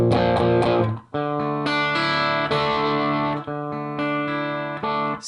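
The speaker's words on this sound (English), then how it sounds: "here we're going to add a lot of the pedals distortion" An electric guitar through a Catalinbread Naga Viper boost pedal plays loud sustained chords, gritty and saturated, with a brief pause before ringing out again.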